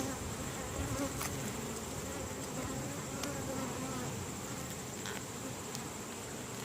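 Honey bees buzz steadily over a hive frame of capped brood cells, a dense continuous drone close by with a few sharper passes of individual bees, and no talking.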